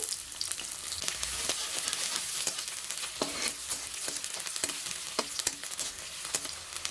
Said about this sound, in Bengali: এবারে পেঁয়াজ কুচিগুলো দিয়ে দেবো